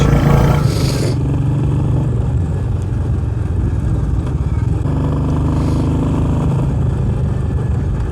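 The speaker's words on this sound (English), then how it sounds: "Having to pull and rev the engine to get it going." A Royal Enfield Meteor 350 motorcycle engine roars loudly and strains under load up a steep slope, revving with a rough, continuous growl as it climbs.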